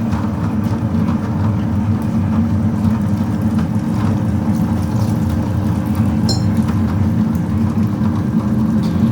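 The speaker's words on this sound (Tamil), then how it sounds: "இப்போ நீங்கள் வந்து இந்த கிரைண்டரோட சவுண்டு எவ்வளோ இருக்குதுன்னு பார்த்தீங்கல்ல" An Ultra Bigg+ wet grinder grinding rice runs with a steady, loud motor hum and a constant low rumble, unbroken and without talk.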